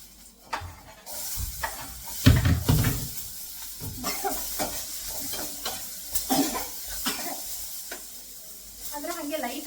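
Vegetables being lightly sautéed in a pan for pasta, giving a steady close sizzle broken by scraping stirs and clattering knocks of a utensil against the pan.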